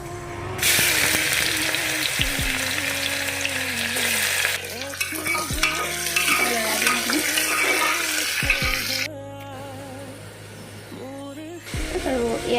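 Onions fry with bay leaves, cinnamon, cardamom and cloves in a pot for pulao, a loud hissing sizzle with frequent stirring scrapes that drops away partway through and returns faintly.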